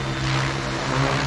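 An RC helicopter fitted with a Spirit FBL flybarless system taking off, giving a loud, steady whirring rotor and motor drone that stays close and continuous throughout.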